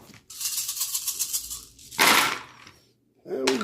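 Clear frosted plastic dice from a dungeon card game tumbling and clattering across a table in a couple of short rattling bursts, close and fairly quiet.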